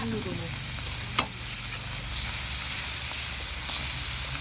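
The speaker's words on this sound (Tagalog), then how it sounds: "isangkot ka lang natin ito mga super mom hanggang sa mag-golden brown at mag-release siya ng sarili niyang mantika" Ingredients for a coconut-milk vegetable dish sauté in hot oil while being stirred until golden brown, giving a constant close sizzle with a few sharp clicks of the utensil against the pan.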